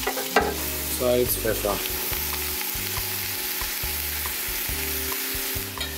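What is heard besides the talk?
onions and bacon frying in a pan for onion soup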